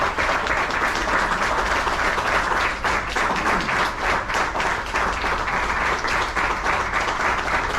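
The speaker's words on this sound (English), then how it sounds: "Can we have a round of applause, please?" Audience applause at a book launch, a dense, steady wash of many hands clapping together that holds evenly for several seconds without a break.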